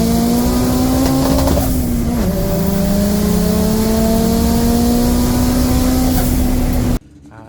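A front-wheel-drive doorslammer drag car accelerates hard down the strip, its engine droning loud and steady as the pitch climbs, dips briefly at a gear change, then rises again before cutting off abruptly near the end.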